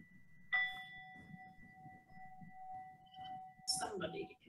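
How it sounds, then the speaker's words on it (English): A metal bowl is struck and rings with a clear, sustained tone under soft talking; a second strike comes near the end. "we'll listen to the singing bowl and get comfortable"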